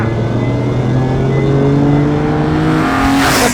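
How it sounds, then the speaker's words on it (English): A G80 BMW M3 engine revs hard, its pitch climbing steadily into a loud, raspy howl before a sharp whoosh at the end. "almost that vibrating death rattle from the engine"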